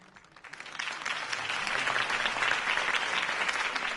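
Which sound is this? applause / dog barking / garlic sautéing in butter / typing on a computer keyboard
applause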